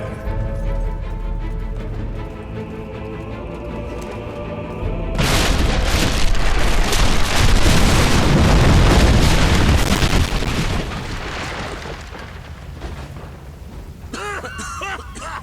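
Loud in-game explosions in Fable 3 as the war scene erupts into a heavy, sustained booming roar, rumbling for several seconds before easing into quieter crackling debris.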